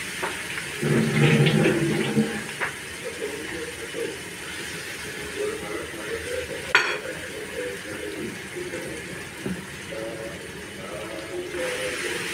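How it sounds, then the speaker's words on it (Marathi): Chana dal and ridge gourd sauté in hot oil in a pan, a soft steady sizzle and scraping stirs running under someone speaking throughout. "तेलात छान डाळ आणि दोडका मी परतून घेते"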